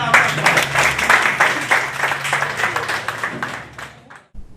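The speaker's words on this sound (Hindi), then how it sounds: "फिर से हम तालियों के साथ" Applause from a gathered crowd at a community event, several seconds of dense, close clapping with audible individual claps that thins out and stops abruptly near the end.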